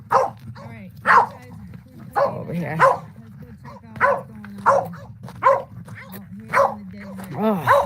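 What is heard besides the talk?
dog barking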